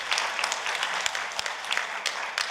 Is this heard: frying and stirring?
no